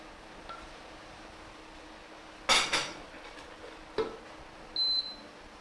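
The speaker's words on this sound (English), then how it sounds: "So we're going to dump in all our onions." Chopped onions tumble into a heated, oil-free cooking pan for a chickpea stew, making a short rough clatter and rustle, followed by a couple of light knocks and a brief electronic beep in a quiet room.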